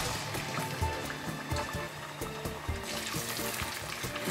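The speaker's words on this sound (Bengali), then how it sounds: "তেলটা গরম হয়ে গেছে, লুচিগুলো ছেড়ে দিচ্ছি।" Sabu (sago) luchi sizzle in hot sunflower oil in a kadai, a steady close crackling bubble with soft popping throughout.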